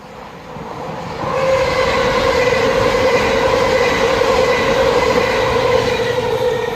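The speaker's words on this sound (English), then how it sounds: "And now coming around the bend is 1 Lima 36, the 1612 Southeastern high-speed service from St Pancras to St Pancras." A Southeastern high-speed passenger train rounds a bend on the line near Newington, its rumble swelling quickly and holding as a loud, close roar with a steady tonal whine from the passing carriages.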